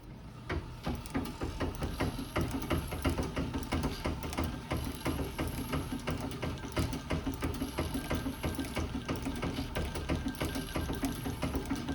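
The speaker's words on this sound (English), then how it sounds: "I'm going to tuck the belt here behind the bobbin winder and let it put the pressure on that way, and that will turn the bobbin winder." An antique Singer model 27 sewing machine, belt-driven against the bobbin winder, winds a bobbin with a steady, rapid mechanical whirring and ticking that runs continuously nearby, with no talking.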